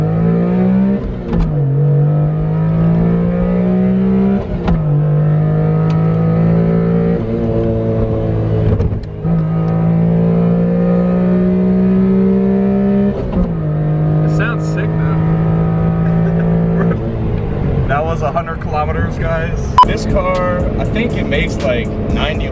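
A small right-hand-drive Honda Beat engine revving hard through several gears, each pull rising in pitch before dropping at the shift, loud and close from inside the car, with road noise toward the end.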